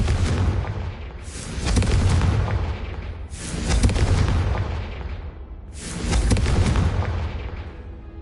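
Three heavy booming blasts of the Confringo fire spell in the game Hogwarts Legacy, each a loud roaring explosion that swells and then rumbles away, evenly spaced a few seconds apart with no talking.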